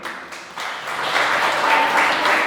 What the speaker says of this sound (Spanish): Un aplauso a Dios por la vida de Yair.